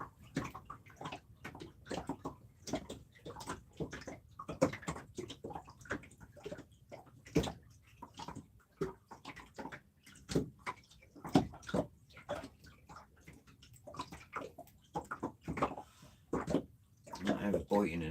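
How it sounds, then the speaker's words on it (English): Water slaps and laps against the hull of a small fishing boat in irregular soft splashes, close by, with someone talking quietly over it. "the sound of this water slapping the boat puts you to sleep"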